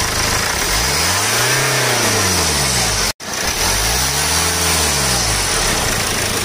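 A BMW 320d diesel engine, just repaired after an intake manifold leak, revs twice: each time rising and falling in a smooth arc, loud and close, with a short cut between the two revs.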